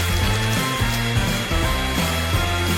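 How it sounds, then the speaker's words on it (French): A hair dryer blows steadily at close range to melt Skittles candy paint on a cake, a loud continuous whirring hum with slight changes in pitch as it moves. "j'ai besoin d'un sèche-cheveux pour faire fondre la peinture du Skittles"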